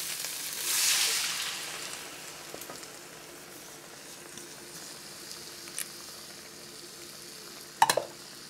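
Masala frying in a pan for fish ambot tik gives a brief soft sizzle near the start, then fades to a quiet, low simmer with a few faint stirring clicks and a scrape near the end.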